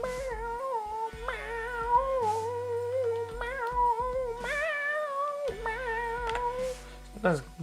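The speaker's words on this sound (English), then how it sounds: "this guitar sounds like a cat getting hung up on a tree" Warbling, pitch-bending guitar-like tones from a video game in development, wavering notes that slide up and down like a meowing cat, repeated in short phrases over a low droning bass.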